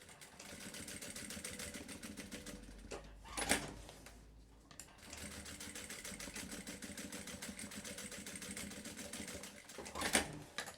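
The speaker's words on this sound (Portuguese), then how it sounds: "Eu vou costurar aqui." Sewing machine stitching a personalised Bible cover, running in steady rapid bursts that pause briefly twice, a soft mechanical whir heard close but quiet.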